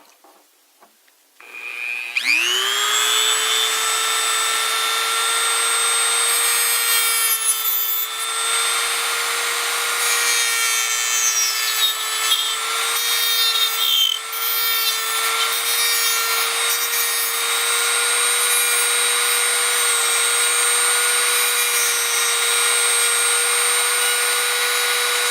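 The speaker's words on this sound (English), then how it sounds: "what I'm going to do with the Dremel is first I'm going to cut out" A Dremel rotary tool cuts a switch opening in a kit part, spinning up from silence into a loud, steady high-pitched whine that holds for over twenty seconds with slight wavers as it bites.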